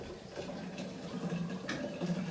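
Fresh homemade almond milk is poured through a funnel into a jar, giving a soft continuous liquid trickle and gurgle at close range, with a couple of faint knocks and no speech.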